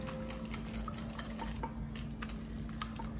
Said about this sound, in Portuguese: Eu gosto de bater bolo assim na mão.